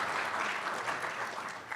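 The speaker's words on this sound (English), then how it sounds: "I would say one more round of applause for Dr. Morey." Brief, steady applause from a conference audience after a keynote on AI and medicine, soft and somewhat distant, with no talk over it.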